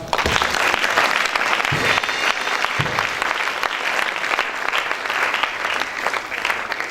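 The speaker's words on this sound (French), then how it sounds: "Est-ce qu'on peut acclamer?" A church congregation bursts into sustained applause, dense, loud clapping from many hands that carries on steadily throughout, with some crowd noise mixed in.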